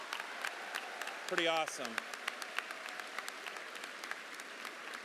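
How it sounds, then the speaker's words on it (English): Applause from a high school graduation audience, steady and moderately distant, with a crowd of clapping hands filling the space while someone briefly speaks over it. "give them a big round of applause"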